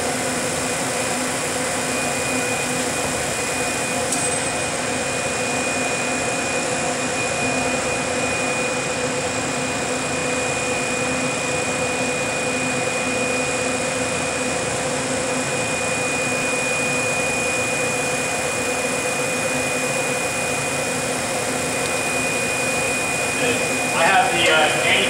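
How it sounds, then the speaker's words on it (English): A Vacuum Atmospheres HE-243-2 glove box antechamber vacuum pump runs with a steady, even whooshing hum and a thin high tone, constant for about twenty-five seconds, with a short clatter near the end. "I have the antechamber under vacuum right now"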